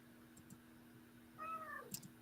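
A cat gives one short, clear meow in the back half, close but soft over a steady low electrical hum, with a faint click just after and no talking.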